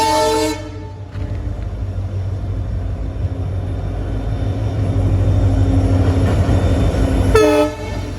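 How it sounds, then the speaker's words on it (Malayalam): A goods train rumbles steadily past at close range. A loud horn blast sounds at the start, and a second blast comes near the end over the continuous rolling of the wagons. "ഗുഡ്സ് ട്രെയിൻ മാത്രമേ പോകണല്ലോ കേട്ടോ പാസഞ്ചർ ട്രെയിൻ ഇല്ല ഇങ്ങോട്ട്"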